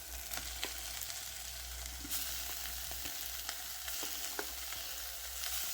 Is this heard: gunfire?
no